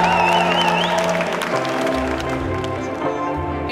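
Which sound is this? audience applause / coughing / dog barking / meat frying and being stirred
audience applause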